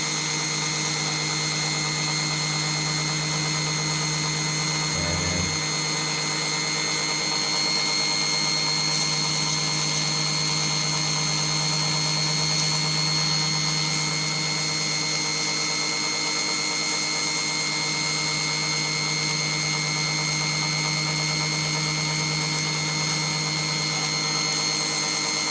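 A power tool polishes the exhaust port of a 1972 VW Beetle 1200 cylinder head, a loud, steady, high-pitched whine that runs unbroken for the whole stretch, with a brief change near the start and no speech.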